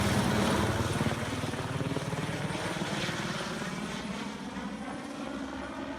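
A helicopter flies nearby ahead of an aerial reconnaissance of a fire, its rotor chop and engine whine a steady, loud drone that eases slightly over the clip.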